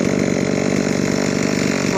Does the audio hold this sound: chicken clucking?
no